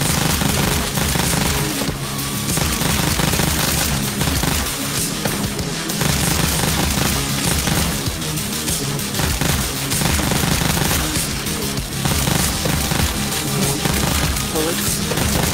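Rapid gunfire fills a Pistol Whip VR shooter session on hard mode, loud dense bursts of shots layered over a driving music track with no gaps.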